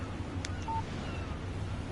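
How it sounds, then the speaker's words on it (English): A text message notification chimes on a phone in the video game Alan Wake Remastered on PS5, a short, faint electronic beep and tone over a quiet, steady background hum, with no talk. "Text message from Barry."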